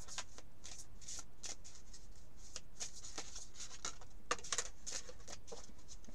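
A deck of oracle cards being shuffled by hand, with quick papery riffles and soft slaps repeating steadily and close up, plus a few sharper flicks near the end as a card flies out.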